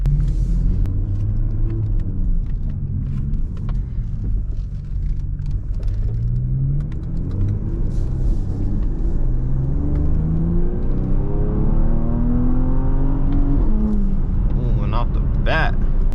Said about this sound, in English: We can hear that turbo kicking in.